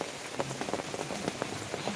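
Steady heavy rainfall drums on surfaces around a guppy fry farm, a broad close hiss dotted with distinct patters and splashes throughout.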